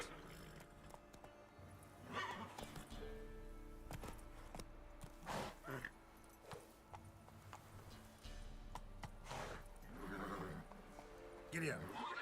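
Horses gallop with rapid clip-clopping hooves and repeated neighs and whinnies in a medieval fantasy setting, while riders shout urgently over the pounding; the sound is fairly quiet overall.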